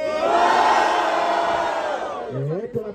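A rap battle crowd roaring for an MC, a loud sustained collective cheer and shouting that fades toward the end as a single voice cuts in.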